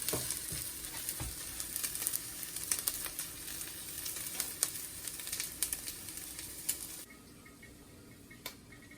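Chicken pieces frying in a pan of oil until browned, a dense continuous sizzle and crackle with occasional stirring clicks, fairly quiet and steady before dropping off near the end.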